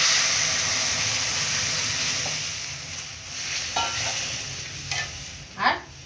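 Boiled lentils tipped into hot oil with fried onion, chilli and turmeric set off a loud close sizzle that slowly fades, followed by a few stirring scrapes and spoon clinks, no voices.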